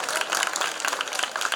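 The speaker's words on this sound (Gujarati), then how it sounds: "તો એકવાર જોરદાર તાળીઓથી આપણે શાળા માટે પણ એકવાર જોરદાર તાળીઓ વધાવશું." Applause for the school named best school at a Republic Day prize distribution, a dense, steady crowd clapping that fills the moment without pause.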